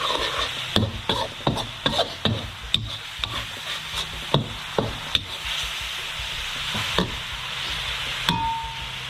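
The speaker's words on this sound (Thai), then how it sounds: "ผัดให้หมึกสุกนะครับ" Squid stir-fried in a hot pan, with a spatula scraping and clacking against the metal in a steady run of sharp strokes over a continuous sizzle, close and fairly loud.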